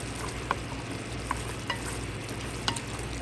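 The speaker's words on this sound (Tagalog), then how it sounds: "Haluin lang natin ng haluin." Menudo stirred in a pan over a steady low sizzle, with a few sharp clicks of the spoon against the pan rim, close and without talk.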